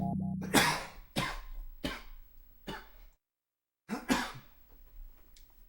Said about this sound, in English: Sorry about the coughing, by the way.